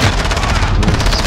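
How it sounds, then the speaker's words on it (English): A shotgun blast amid loud, dense Call of Duty battle-royale gunfire, with continuous sharp shots packed together over roaring game noise for just over a second. "Fucking killed me too, with a shotgun."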